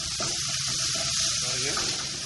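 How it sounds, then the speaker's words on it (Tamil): Onions sautéing in a pan with mustard seeds and urad dal, a steady close sizzle and crackle of frying with stirring, while a voice talks over it. "அப்புறம் பெரிய வெங்காயத்தை போட்டு நல்லா வதக்கிக்கோங்க"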